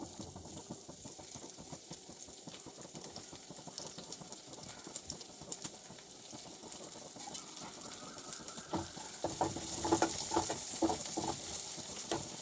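Chopped onions, two medium ones, frying in a pan for a Kerala egg roast, giving a steady crackling sizzle that grows a little louder and busier toward the end, close up, with no talking.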